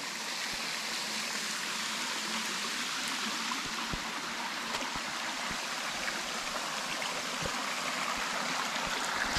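Stream water rushes steadily downhill at Hamsala Kona between Jammalamadugu and Muddanur. It makes a continuous, even wash of flowing water with no voices.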